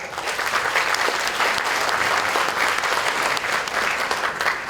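A large party convention crowd in a hall gives sustained, dense applause at a steady, loud level throughout.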